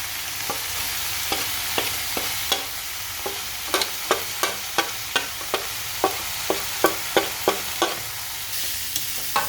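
Mutton sizzles in a pan for mutton kulambu while a spoon scrapes and knocks against the pan in regular strokes, giving a steady series of sharp clicks over a constant frying hiss.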